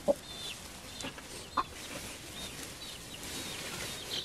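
Hens on a restored abandoned farm in Spain cluck softly in a few scattered, brief calls against a quiet outdoor background.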